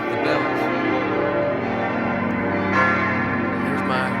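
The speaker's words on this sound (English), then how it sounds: "I think they're competing with the bells." Church bells ring steadily near an apartment in an old neighborhood, a sustained clanging wash of overlapping tones from more than one church, loud and continuous throughout.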